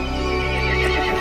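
A horse in Resident Evil Village lets out a loud, close whinny with a rough, tonal neigh held across a brief burst, with faint hoof clatter underneath and no talking.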